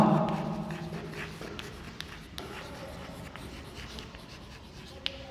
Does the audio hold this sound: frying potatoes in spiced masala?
no